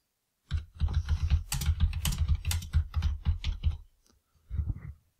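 Typing a budget description on a computer keyboard: a quick, close run of clicking keystrokes for about three and a half seconds, a short pause, then a few final taps, with no talk.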